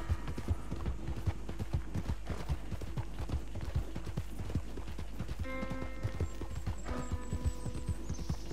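Steady clip-clopping of horse hooves at a trotting rhythm in the video game Red Dead Online, fairly faint, with a brief whinny and some chiming tones near the end.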